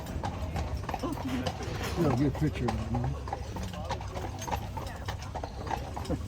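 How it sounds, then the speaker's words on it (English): Hooves clip-clop steadily on pavement as a brown-horse-drawn carriage passes on Mackinac Island, Michigan, with people talking nearby and a horse snorting. "Another carriage. Them brown horses."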